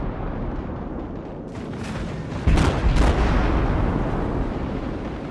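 Cruiser guns firing in World of Warships, a couple of loud booming salvos close together over a constant rumbling battle background.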